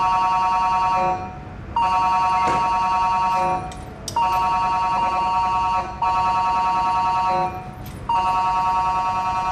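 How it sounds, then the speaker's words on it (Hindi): A phone rings in repeated electronic bursts, each tone held about two seconds with short gaps between, loud and close with no talking. "जरूर तीजन जी का फोन होगा कार्यक्रम के लिए"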